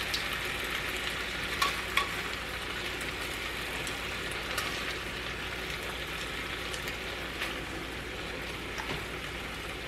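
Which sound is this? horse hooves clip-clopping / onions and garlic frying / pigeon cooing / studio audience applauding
onions and garlic frying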